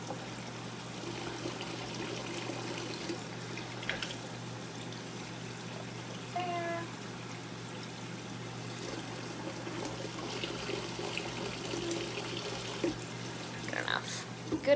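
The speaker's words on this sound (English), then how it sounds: "this is hot tap water because it doesn't need to be boiling" Hot tap water runs from a kitchen faucet, a steady faint pouring and trickling stream that lasts throughout while a person talks over it.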